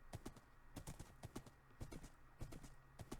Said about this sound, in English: Man, this horse is slow.